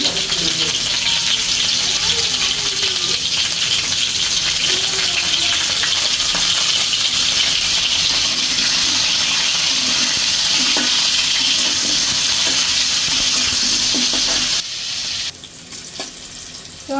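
Vegetables frying in a pan with salt and chili, giving a steady loud sizzle with occasional clinks of a utensil for most of the time, then dropping off sharply near the end.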